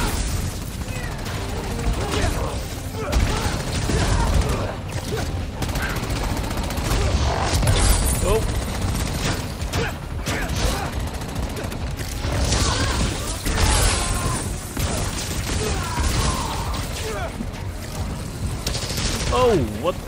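Gunfire in the Spider-Man: Miles Morales game: rapid bursts of shots mixed with mechanical clanks and creaks, loud and continuous, with voices talking throughout.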